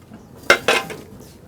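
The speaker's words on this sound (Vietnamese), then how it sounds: "Đây tôi mở vung nồi sôi ra." A lid lifted off a pot steaming sticky rice gives two quick metallic clanks close by, followed by a soft rattle and quiet kitchen background.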